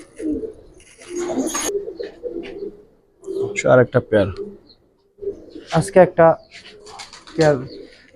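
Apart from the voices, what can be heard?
Giribaz pigeons cooing in a loft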